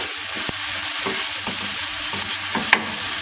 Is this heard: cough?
no